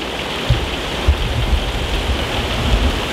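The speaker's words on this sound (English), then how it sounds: "started to rain like crazy and there's also thunder and everything" Heavy rain pours steadily in a seaside fishing village near Copenhagen, a dense hiss throughout with a few low thudding rumbles that could be distant thunder; no voices.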